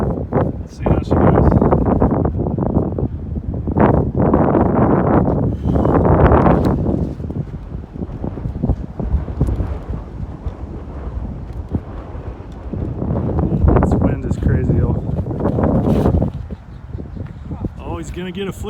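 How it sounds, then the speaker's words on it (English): Wind buffets the microphone on an open disc golf course at Beal Park, a low, rumbling roar that surges in long gusts, with voices partly audible beneath it. "We still got a bunch of wind in our face."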